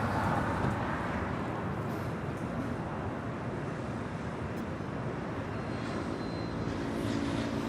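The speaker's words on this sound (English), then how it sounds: "That is Air China Flight 988 heading back to Beijing on this 777-300ER, now pushing back from the gates on the north side of Tom Bradley" Air China Boeing 777-300ER pushing back from a gate at Los Angeles International Airport, a faint, steady distant engine rumble with airport ambience and no voices.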